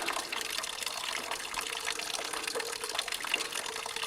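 Water runs steadily from a handmade village water supply on a Kathmandu trekking route, a continuous splashing flow heard close and alone.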